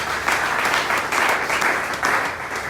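A congregation at a church Easter seminar claps loudly, a dense burst of applause swelling in waves over a few seconds, close and unbroken.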